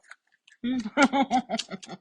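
Crunchy chewing of Burmese noodle salad, a run of close, quick bites and crunches in uneven rhythm after a brief near-silent pause.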